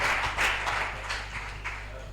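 Audience applause welcoming a speaker at a religious gathering, a burst of clapping that swells and then fades over a low steady hum, fairly loud and diffuse.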